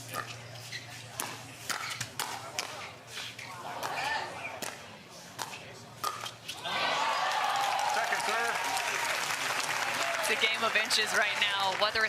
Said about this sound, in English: And crowd cheering them on.